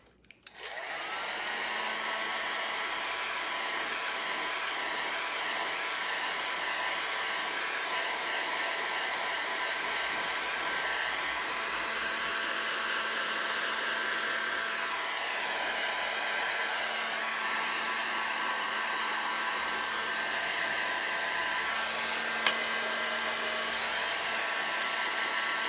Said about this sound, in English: We're gonna turn on our handy dandy heat gun and come back.